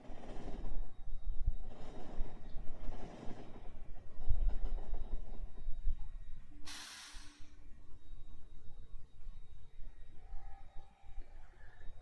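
Freight train unloading at a station in the factory-building game Factorio, a steady rumbling mechanical bed with soft hissing and a brief bright burst midway, continuing alone without talk.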